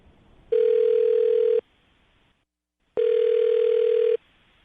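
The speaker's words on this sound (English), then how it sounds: "I'm going to dial the phone number right now, see if we can get her on the phone" Telephone call tone sounding while a phone number is dialed: two long, loud, steady beeps separated by a pause of a bit over a second, with a faint hiss between them.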